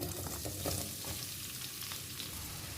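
Chopped onion sizzling and crackling in a little hot oil in a pan, a steady close fry with occasional stirring scrapes and no talk.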